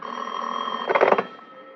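A telephone bell rings in an old radio drama, one sustained electric ring with a brighter rattling burst in the middle before it fades, heard close and alone.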